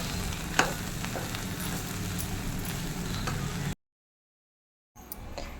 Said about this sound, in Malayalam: ലോ ഫ്ലെയിമിൽ ഇട്ടിട്ട് നമുക്ക് നല്ലപോലെ മിക്സ് ചെയ്യാം